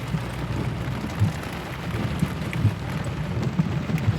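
Rain falls steadily with low rumbles and thumps that suggest distant thunder, heard close to the microphone with no speech.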